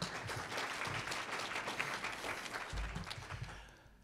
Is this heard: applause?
yes